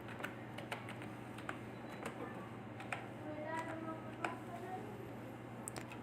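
A computer keyboard clacks with a run of quick, irregular keystrokes as a channel name is typed. The tapping is soft and close over a steady low hum, with no talking.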